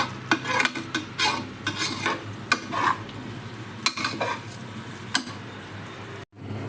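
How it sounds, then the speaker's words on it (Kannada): Rice is stir-roasted over a low flame in a pan for vegetable pulav, a dry rustling scrape with frequent spoon clinks against the metal and a faint sizzle beneath. "ಅಕ್ಕಿನ ಹಾಕಿಬಿಟ್ಟು ಒಂದು 2 ನಿಮಿಷ ಹುರ್ಕೋಬೇಕಾಗುತ್ತೆ. ಸಣ್ಣ ಉರಿಯಲ್ಲಿ ಹುರ್ಕೋಬೇಕು"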